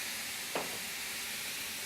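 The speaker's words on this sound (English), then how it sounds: "I'm going to add 3 cupfuls of white wine and just pour that over my chicken. It'll steam right up" White wine poured over chicken in a hot pan gives a steady, dense hiss of steam and sizzling. A brief splash sounds early on, then the frying continues evenly with no voices.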